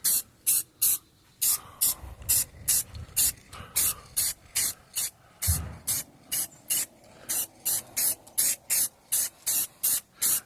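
Aerosol spray paint hisses in short, regular bursts as light coats go onto used truck wheels for a 2002 GMC Sierra, each loud, close spray pulse separated by brief gaps.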